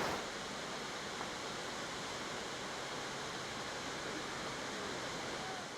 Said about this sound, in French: En effet, les vagues sont petites